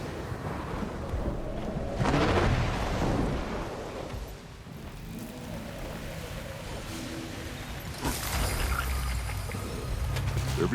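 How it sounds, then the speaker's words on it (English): Rumbling thunderstorm in the Guild Wars 2 game world, with deep low rumbles swelling around two seconds and again near eight seconds over a steady bed of wind and rain-like noise. "Don't want to be too close when the storm starts up."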